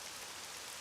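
Steady rain hissing in RollerCoaster Tycoon 3, a soft, even wash of falling drops, faint and uninterrupted, with nobody speaking.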